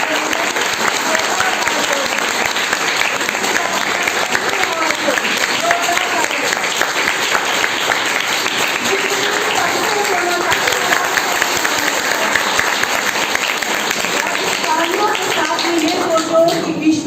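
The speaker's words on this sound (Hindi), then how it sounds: "तो सबसे जोरदार तालियां बजाओ" A large crowd of school students claps loudly and continuously throughout, dense sustained applause with excited voices mixed in.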